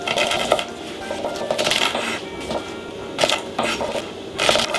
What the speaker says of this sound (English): Our slices, we will dice them.